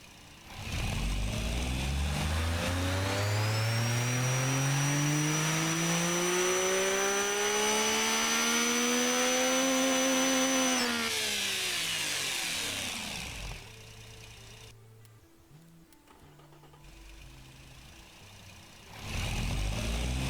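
A simulated inline-three engine on a dyno in the car-building game Automation revs up in one long sweeping climb, holds a high buzzing pitch, drops back to a low idle, then starts rising again; loud and alone.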